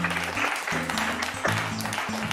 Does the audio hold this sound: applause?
yes